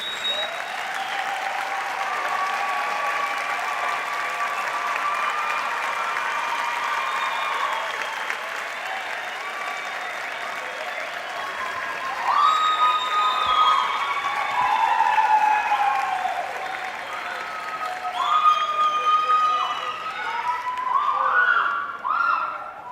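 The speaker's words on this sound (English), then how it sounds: "give them a hearty round of applause for all their support" A large audience at a medicine and health sciences graduation ceremony claps steadily and loudly for over twenty seconds, the applause swelling with scattered cheers toward the end.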